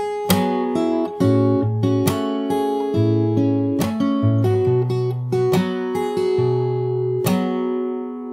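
An acoustic guitar plays a fingerstyle arrangement of a song, with ringing chords, moving bass notes and sharp slap accents, close and clear. The last chord fades out at the end.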